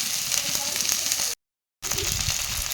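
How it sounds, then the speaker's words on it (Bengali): Spices and ripe tomatoes fry in a pan with a constant close sizzle and hiss, broken by a brief silent cut before the frying sound resumes. "মশলা কয়েক সেকেন্ড ধরে ভেজে নেব"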